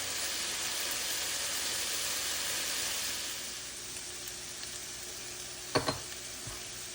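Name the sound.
potatoes browning and sizzling in a skillet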